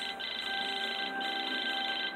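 Phone ringing in the Saints Row video game, a steady electronic ring tone with a constant pitched tone running unbroken through the whole stretch, fairly loud and with no talking over it.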